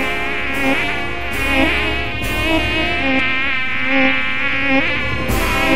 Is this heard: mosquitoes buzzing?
yes